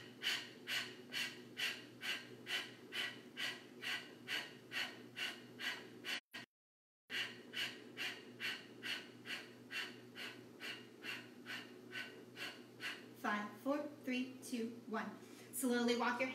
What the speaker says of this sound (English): Last round of Kapalabhati breathing.